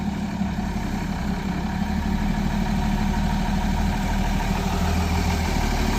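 A van's engine runs steadily while the vehicle slowly reverses, a loud, constant low rumble with an even drone and no break, close by and with no speech over it.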